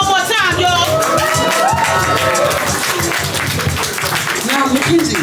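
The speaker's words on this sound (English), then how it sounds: "Clap it up for Mackenzie one more time" Audience at a Haitian poetry event applauding the poet Mackenzie, loud sustained clapping and cheering throughout, with voices calling out over the crowd.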